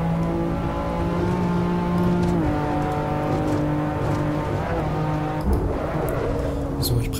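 A BMW M4 engine in the racing video game Assetto Corsa drones steadily and loudly, its pitch shifting with gear changes, with no pauses throughout.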